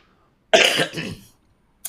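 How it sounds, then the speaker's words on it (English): A single burst of harsh coughing, close and fairly loud, lasting under a second after silence, with a short faint sound at the very end. "I'm coughing"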